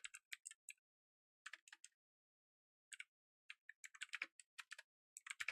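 Crisp keystrokes on a computer keyboard during a live stream, typed in quick irregular bursts with short pauses between clusters, close and fairly quiet with no talking.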